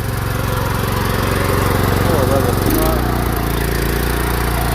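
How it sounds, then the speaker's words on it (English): A small Honda gasoline engine on a pressure washer runs steadily and loudly close by, its pitch dropping slightly partway through as the load changes. "You can hear that engine just like brand new still."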